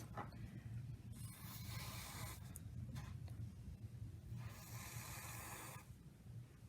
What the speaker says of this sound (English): you're going to give it one more little spray